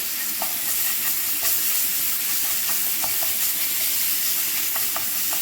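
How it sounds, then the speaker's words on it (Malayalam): Chicken coated in chilli garlic paste stirred in a hot pan for chicken 65, a steady sizzle with repeated light scrapes and clacks of the spoon, close and continuous with no voices. "മിക്സ് ചെയ്ത് കൊടുക്കാം"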